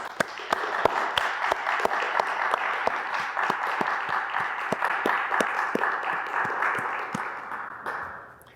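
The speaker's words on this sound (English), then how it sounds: "Please join me in a warm round of applause for all our graduates." A convocation audience gives graduates a sustained round of applause, dense clapping from a large crowd with a few sharp individual claps standing out before it fades at the end.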